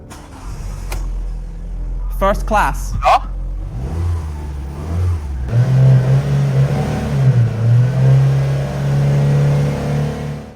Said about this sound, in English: Now let's start it up to see how the engine is doing.